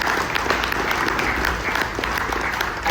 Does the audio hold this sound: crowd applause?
yes